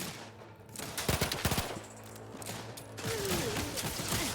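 Rapid gunfire hits a boss in The Outer Worlds 2, a tight burst of several quick shots followed by mechanical hum and a rising electronic whine, fairly faint overall.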